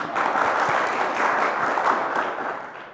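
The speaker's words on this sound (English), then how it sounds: "Round of applause for our moderator." An audience at a book event applauds the moderator, a short burst of even, steady clapping from a crowded room.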